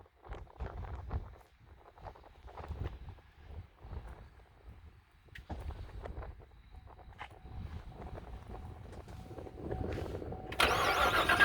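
A supercharged LT4 V8 in a 2016 Chevrolet Corvette Z06 cranks and fires up, then settles into a rumbling idle with occasional revs, heard close with light shuffling nearby.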